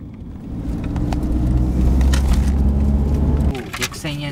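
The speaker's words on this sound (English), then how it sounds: "So first off, taxi number one." Car engine and road rumble inside a taxi in Tokyo, a low steady hum that swells and then drops off, followed by a few light clicks and rustles, with a voice speaking over it.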